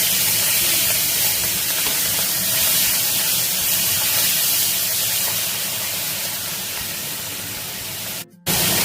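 Five-spice, a dried red chilli and hilsa fish oil hit hot oil in a pan, making a loud, steady hiss that lasts almost the whole time and cuts off briefly near the end.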